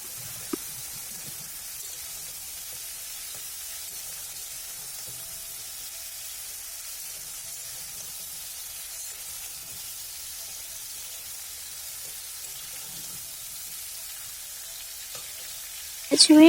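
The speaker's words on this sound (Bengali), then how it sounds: "একটা কড়াতে সাদা তেল দিয়ে তারপর সয়াবিন আলু দিয়ে কিছুক্ষণ নাড়াচাড়া করতে হবে" Soybean chunks and potatoes fry in white oil in a kadai over a gas flame, giving a steady, soft sizzling hiss with faint, scattered scrapes of stirring throughout.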